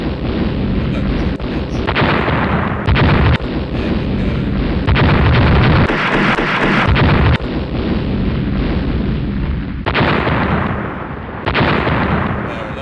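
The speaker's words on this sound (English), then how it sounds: "Are you firing with all of your guns? Yes, you are." Warship guns firing in the naval strategy game Rule the Waves: loud, continuous booming salvos with dense rumbling blasts that overlap and swell, no pauses, no talk.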